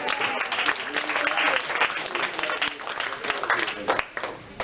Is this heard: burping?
no